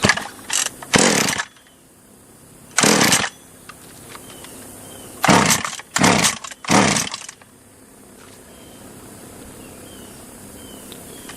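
A cheap top-handle chainsaw under repair, running without an air filter and choked, roars in several short loud bursts of revving between quieter idle gaps, close up with no talking.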